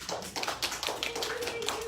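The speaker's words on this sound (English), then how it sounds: "You want to clap for it?" Young preschool children clap together at the end of a library story time, a brisk, uneven patter of small hands close by that lasts about two seconds with no talking.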